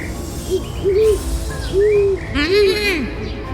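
An owl hoots in a children's animated story, a few wavering, hooting calls in a short series over quiet background sound, with no talk.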